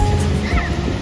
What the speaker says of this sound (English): splashing in the waves as well